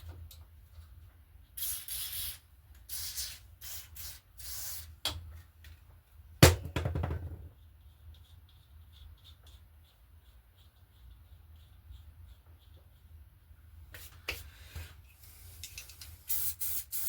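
Short hissing bursts of aerosol spray on the gear mechanisms and levers of a retro Kona Cindercone bicycle, several quick blasts early and late, a louder sharp knock in the middle, and quiet pauses between.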